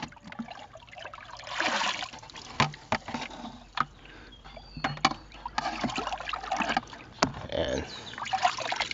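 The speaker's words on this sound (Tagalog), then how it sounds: "Para ka lang nagtatapon ng tubig sa palaisdaan." Water carrying prawn fry is poured from a bucket into a fishpond, giving irregular splashes and trickles with scattered knocks over outdoor background noise.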